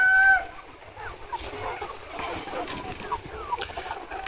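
Chickens clucking and calling inside a dusty poultry coop, where birds raised for sale suffer from a wheezing respiratory illness; scattered, fairly soft fowl calls over a steady, busy background murmur.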